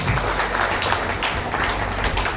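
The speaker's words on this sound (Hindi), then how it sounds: "एक बार उसके लिए बहुत जोरदार तालियां बजा" An audience at a Brahma Kumaris ashram event claps loudly and steadily, a dense continuous wash of applause throughout.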